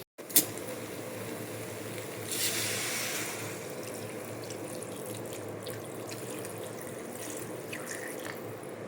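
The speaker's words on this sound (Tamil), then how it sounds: "இந்த ஸ்டேஜில் நான் தண்ணி ஊற்றிக்கிறேன்." Water is poured into a cooking pot of quail curry as a steady, continuous trickling stream that runs for several seconds after a small initial clunk, moderately quiet and without talk.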